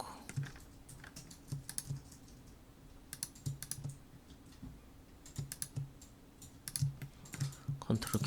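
Computer keyboard typing with short bursts of key presses and Ctrl shortcut taps for copying and pasting, fairly quiet and close, with brief pauses between bursts over a low steady hum.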